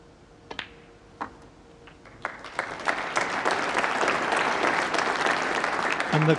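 A snooker crowd at a Champion of Champions match between Mark Selby and Stephen Maguire bursts into applause after a few sharp isolated claps. The clapping swells into steady, full applause that holds to the end.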